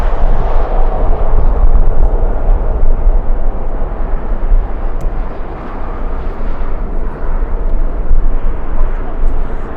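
An American Airlines flight arriving from London Heathrow at LAX in strong winds gives off a loud, rumbling jet roar mixed with heavy gusting wind buffeting the microphone, steady throughout.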